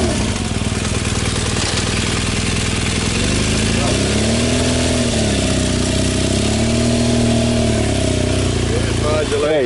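A BMW R1200GS motorcycle revs off-road, its engine droning steadily throughout, then rising and falling in two clear rev swells in the middle. People talk over the engine.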